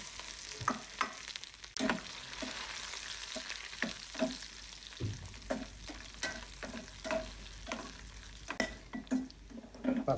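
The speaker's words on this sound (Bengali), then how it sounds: "বাগার জন্য সর্বপ্রথম আমি একটা কড়াইতে অল্প একটু সয়াবিন দিয়ে দিচ্ছি আর দিয়ে দিচ্ছি তিন চারটা শুকনা মরিচ সাথে একটু রসুন" Three or four dried chillies and some garlic fry in a little soybean oil in a kadai, a close steady sizzle broken by repeated scraping stirs and clinks of the spatula, with no speech.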